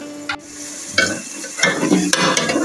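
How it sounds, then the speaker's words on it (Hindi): Masala frying in oil in a pot for Pakistani chicken pulao, a loud close sizzle with bursts of stirring and scraping and sharp spattering pops at irregular intervals. "ये देखें क्या ज़बरदस्त मसाला जब फ्राई हो रहे हैं हमारे चिकन पुलाव के लिए"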